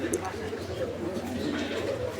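Soft pigeon coos murmur steadily at moderate volume, mixed with a low background hum and faint voices nearby.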